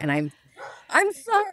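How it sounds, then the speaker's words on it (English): A pet dog at home lets out a couple of quick, close barks and yips, tangled with a person talking. "And that's my dog."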